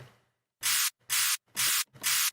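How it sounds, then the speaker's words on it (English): Four sharp bursts of bright white noise in an electronic music track, evenly spaced and loud, each cutting off abruptly into silence. "Then some white noise."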